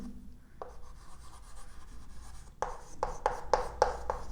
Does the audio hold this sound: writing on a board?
yes